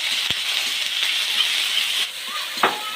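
Garlic and ginger paste sizzles in a pan of frying onions, a steady close hiss with small pops and scrapes and no talking.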